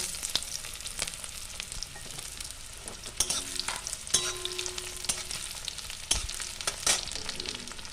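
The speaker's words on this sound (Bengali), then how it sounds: "এবার কুচিয়ে রাখা পেঁয়াজটা আমি হালকা করে ভেজে নেব" Chopped onion sizzles and crackles as it is lightly fried in a hot pan, with occasional scraping stirs and soft clatters, steady and close.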